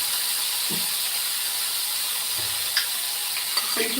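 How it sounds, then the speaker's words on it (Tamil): Tomatoes fry in a pan alongside onion and garlic for a brinjal poriyal, giving a steady broadband sizzle throughout with a few faint stirring knocks and scrapes, and no talk. "தக்காளி போட்டுக்கிறோம் இதை நல்லா ஃப்ரை பண்ணிக்கிறோம்"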